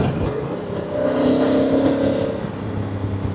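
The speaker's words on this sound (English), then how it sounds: "Let's downshift manually." A Honda CRF1000 Africa Twin DCT motorcycle's engine note rises and falls through a manual downshift, loud and steady under heavy wind rush.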